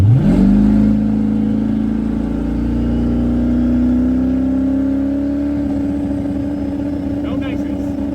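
A 1400 hp turbocharged Corvette with a TH400 automatic transmission pulls away hard, its engine note rising sharply then holding a loud, steady drone close by from inside the car, with talk heard over it.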